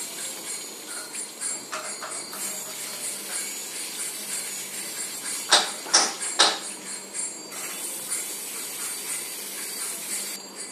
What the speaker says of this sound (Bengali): এইভাবে এই যে আলুটা আমি লাল লাল করে ভেজে নিচ্ছি